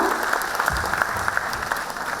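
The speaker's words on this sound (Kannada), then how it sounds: "ಎಲ್ಲರೂ ಕೂಡ ಸ್ವಾಗತವನ್ನು ಬಯಸೋಣ ದಯವಿಟ್ಟು ಚಪ್ಪಾಳೆ ಮೂಲಕ" Steady applause from an audience at an awards ceremony, many hands clapping together at an even level for a couple of seconds.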